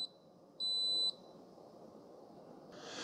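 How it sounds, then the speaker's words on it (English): A Ninja 10-Cup Specialty Coffee Maker CM401 finishes with a high electronic beep held about half a second after a brief chirp at the start, then quiet room hiss and a rising rustle. "So there's the beeps."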